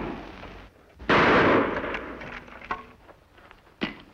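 Gunfire in an old Western TV episode: a loud sharp shot rings out with a lingering crackle, then fainter scattered reports follow. A second sharp crack comes near the end.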